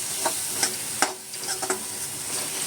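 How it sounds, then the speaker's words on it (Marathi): Masala fries in a pan for a pomfret curry with a constant sizzle. A spatula scrapes and stirs it in several quick, distinct strokes. "आता मसाला चांगला आपल्याला फ्राय करून घ्यायचा"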